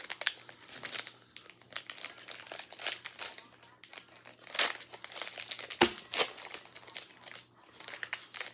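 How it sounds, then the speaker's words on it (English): A basketball trading card pack wrapper crinkles and crackles in close, irregular bursts as it is torn open, with a few louder crunches and faint talk in the background. "I have a whole nother pack to open"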